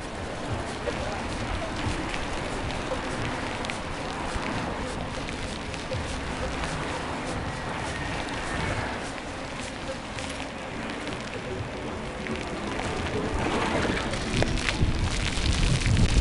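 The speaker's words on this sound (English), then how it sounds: "Oh, the rain's coming through." Rain falls during an evening bike ride along Long Wharf in Nassau, Bahamas, a steady broadband wash of drops and wind that swells toward the end, with traffic and occasional voices mixed in.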